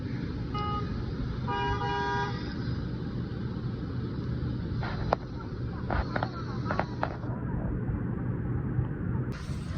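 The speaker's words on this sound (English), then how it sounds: "Can you guys please stop honking for no reason?" Car horns honk repeatedly in short and longer blasts over steady traffic noise, with voices faintly in the background.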